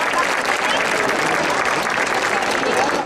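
An audience at a national folklore show in Leganés applauds steadily, a dense, even wash of clapping from a crowd that holds at the same loudness throughout.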